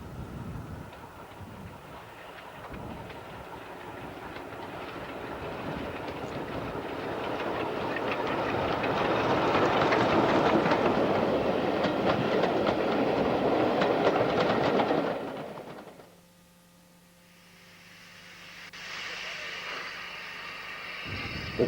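Locomotive 14029 on the Nene Valley Railway passes with a rumbling roll and clickety-clack of wheels that builds to a loud peak, then cuts off abruptly, followed by a quieter, more distant stretch of train noise.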